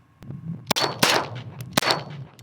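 A Beretta blank-firing pistol goes off several times at close range, each a sharp, very loud crack followed by a short ringing tail, with the shots spaced unevenly and no other sound between them.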